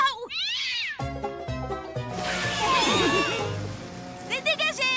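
A cat meows loudly several times, with drawn-out wailing calls and short sharp cries, heard close amid voices and music.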